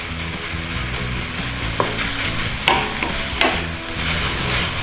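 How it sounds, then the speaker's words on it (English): Kimchi fried rice stir-fried in a hot pan, with a steady close sizzle and frying hiss throughout and a few sharp scrapes and clacks of the utensil against the pan; a brief spoken remark comes near the end. "we need to give this a stir fry to dry it out a little bit"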